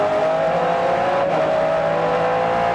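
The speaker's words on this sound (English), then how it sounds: "What a sound. Oh, I love that. 12 cylinders of power behind the driver, or in front of the driver in this case." A 12-cylinder front-engined race car roars at a 2002 American Le Mans Series sports car race in Washington, D.C., a loud, sustained, steady engine howl filling the entire stretch without pause.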